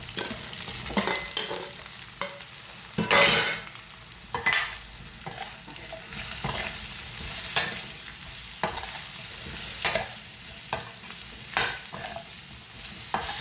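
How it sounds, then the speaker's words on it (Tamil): Mushrooms sautéing in a pan with softened onions and green chillies for a Tamil mushroom curry: constant frying sizzle with repeated scraping strokes of a spoon stirring, close and moderately loud, without any voices. "போட்டுட்டு நான் காளானை இதில் சேர்த்து வதங்க விட போகிறேன்"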